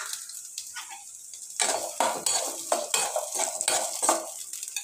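Small shallots go into hot oil in a kadai and are stirred, bringing a quiet start and then a louder crackling sizzle broken by repeated scraping and clinking of the ladle against the pan.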